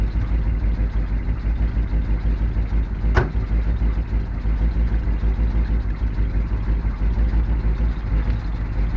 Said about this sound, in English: It just doesn't idle very well.